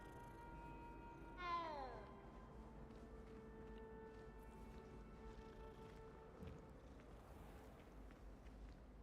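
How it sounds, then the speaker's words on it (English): A cat in the video game Hogwarts Legacy gives one clear, rising-and-falling meow early on. Afterwards a quiet ambient game background continues with faint scattered sounds. "I need to check this cat out."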